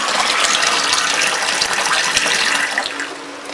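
Water runs from a tap into a container, a close, steady gushing splash with no pause from start to finish.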